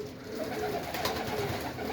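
Pigeons coo continuously inside a dovecote, with soft layered calls from several birds over a dense, steady bed of rustling and murmuring.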